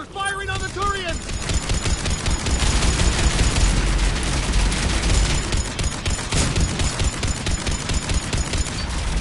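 A Harvester opening fire in the video game Mass Effect 3, heard as dense, continuous automatic gunfire and booming blasts that stay loud and relentless throughout, with shouted voices briefly at the start.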